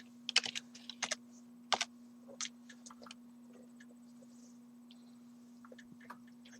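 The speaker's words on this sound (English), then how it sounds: "I'm still typing it" Someone types on a computer keyboard during a tabletop Dungeons & Dragons session. A quick burst of clicky keystrokes comes first, then sparser taps trail off over a steady low electrical hum, with no talking.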